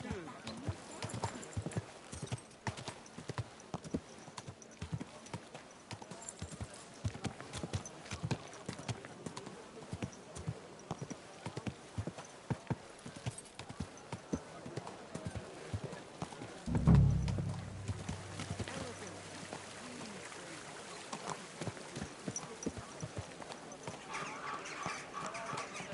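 Horse hooves clip-clop steadily during riding in the video game Kingdom Come Deliverance 2, a continuous rhythmic trot under frequent talking, with a brief louder thump partway through.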